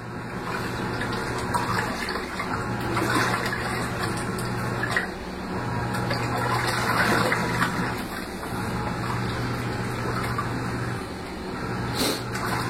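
A small washing machine runs with water sloshing and rushing steadily. A low motor hum cycles on and off every few seconds beneath the constant wash.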